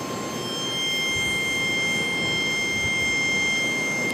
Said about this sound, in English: American Airlines 611. 777 coming around here.